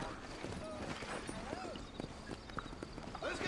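A horse's hooves clip-clop steadily in the game Red Dead Redemption, a rhythmic trotting beat heard under someone talking and ambient game sounds.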